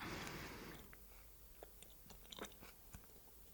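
Someone bites into and chews a pine cone, crisp crunches and small wet clicks sounding up close and quietly after an initial rustle, with no speech.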